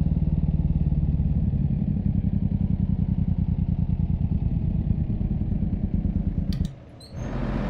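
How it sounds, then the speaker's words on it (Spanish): Truck engine braking in Euro Truck Simulator, a loud, steady rapid pulsing drone from the engine that holds for several seconds, then briefly drops away and returns. "Poquito de freno motor para escucharlo."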